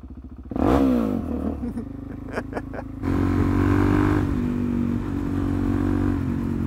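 Suzuki DRZ dirt bike revving and accelerating hard, the engine note rising sharply, a few quick throttle blips, then a sustained loud roar as it rides on, up close.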